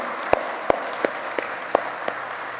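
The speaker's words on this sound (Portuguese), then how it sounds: "Escute, aplauda Jesus." A church congregation applauds during a sermon, with a diffuse wash of clapping in a reverberant hall and several sharp, evenly spaced claps standing out near the microphone.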